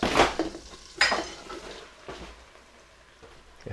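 Ground beef dropped into a pan of melted butter for a shepherd's pie, with two loud clattering hits of pan and utensil followed by a quieter sizzle and scraping, no talking.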